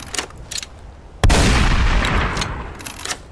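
A single loud gunshot in a modded Skyrim video game, a sharp blast followed by a long rumbling decay, with faint game sounds before it.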